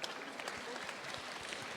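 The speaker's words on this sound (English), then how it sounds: "Let's have a clap as well, right?" A convention crowd applauding at a Comic Con interview, dense clapping throughout at moderate volume.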